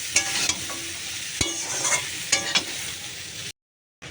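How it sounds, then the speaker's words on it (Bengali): Vegetables with turmeric fry in a pan, giving a steady sizzle broken by stirring scrapes and clicks. The sound cuts off abruptly just before the end. "হলুদ দিয়ে দিলাম দিয়ে এটাকে এবার ভালো করে সুন্দর করে ভাজা ভাজা করবে"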